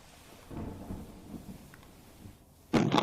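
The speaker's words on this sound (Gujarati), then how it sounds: "દ્વારકામાં સવારથી વરસી રહ્યો છે ધોધમાર વરસાદ" A heavy rainstorm with thunder in Dwarka: a low, muffled wash of rain and distant rumbling builds quietly, then a sudden loud, close thunderclap crashes in at the end.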